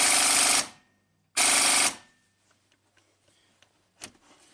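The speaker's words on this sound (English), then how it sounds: "So we'll just tighten it down with the air wrench" An air impact wrench tightens a bolt on a Mitsubishi Montero in two loud, rapid hammering bursts of about half a second each, followed by quieter clicks and handling noises.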